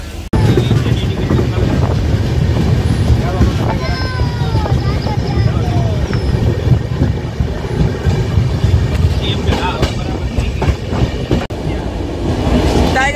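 The 22960 Jamnagar-Vadodara Intercity Express runs at speed, heard from on board as a loud, continuous rumble and rattle of wheels and carriages with wind buffeting the microphone throughout.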